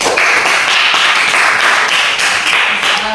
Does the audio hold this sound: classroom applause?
yes